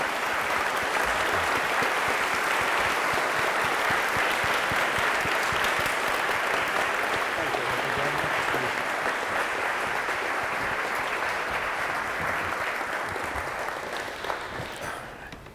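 A large audience at the Oxford Union applauds steadily and warmly in welcome for former Russian prime minister Mikhail Kasyanov, the clapping dense and even throughout before tapering slightly at the end.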